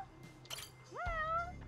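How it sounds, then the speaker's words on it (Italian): A cat meows once in the video game Judgment: a short, quiet rising-and-falling call that stands alone over faint background ambience. "Non è il piccione, è un gatto."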